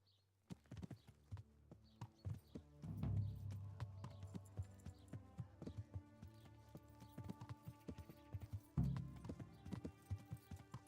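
Horse hooves in a video game (Kingdom Come: Deliverance) clip-clop at a steady walking rhythm, close and clear, with a couple of heavier thumps and faint harness rattles mixed in.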